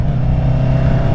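Honda CB650R motorcycle engine running with a steady, loud low rumble and dense harmonics, heard close and alone for a brief moment.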